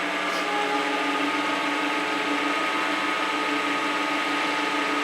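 A wood lathe spins steadily at around 1665 RPM while making a tamper, giving a continuous loud mechanical whine with a steady tonal hum and no breaks, heard alone throughout.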